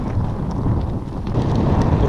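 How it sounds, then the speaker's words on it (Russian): Strong, bitterly cold north wind buffets the microphone in a continuous, heavy rumble with gusty fluctuations and no voices, during winter ice fishing. "И ветер просто северный дует. Неимоверный ветер."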